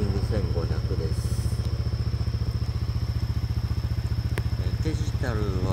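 A customized Yamaha NMAX125 scooter idles close by at around 1500 rpm, a steady pulsing rumble with faint clatter, while a voice talks briefly over it.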